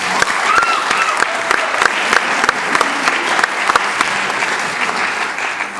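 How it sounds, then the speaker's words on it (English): Audience applause fills a high school concert choir performance with loud, continuous clapping. Sharp individual claps stand out throughout the steady roar. "A round of applause."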